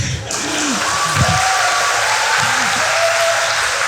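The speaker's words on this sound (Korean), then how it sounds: "여러분의 박수 소리와 함께" Steady applause from a seated audience at a Korean lecture-style talk, a dense even clatter of many hands filling the room and holding at a constant level throughout.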